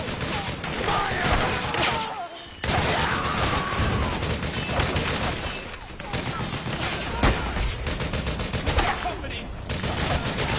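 Dense, sustained gunfire from a Metal Gear Solid 4 battle, rapid automatic bursts and overlapping shots rattling almost continuously for ten seconds with a few heavier impacts, loud and close, with shouting voices mixed in.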